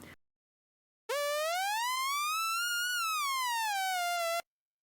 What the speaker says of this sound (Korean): 톱니파 소리도 들을 수 있고요.